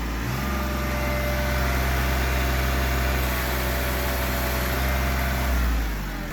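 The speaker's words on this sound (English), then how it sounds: "if we raise it up to 2000 RPM, see what we got" A Kubota B7500 compact tractor's engine runs steadily at high revs around PTO speed, a loud continuous drone with a slight rise at the start and a small dip near the end.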